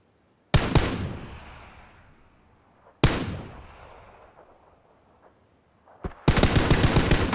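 Video game gunfire rings out as two loud single blasts, each with a long echoing decay, followed by a sustained rapid automatic burst, loud and close.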